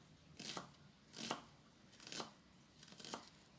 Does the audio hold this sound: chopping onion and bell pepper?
yes